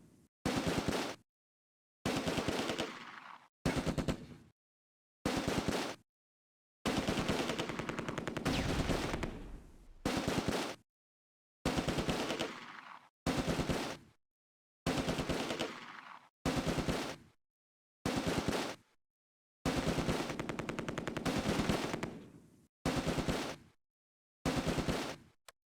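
Bursts of machine gun fire in the WWII tactical game Close Combat, set in Operation Market Garden, loud rapid volleys repeating in separated clusters with silent gaps between them, some bursts longer and heavier.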